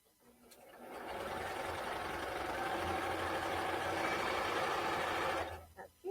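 A sewing machine runs a steady, continuous stitching line through fabric for several seconds, a close, even mechanical whir that starts up, holds, and stops abruptly near the end.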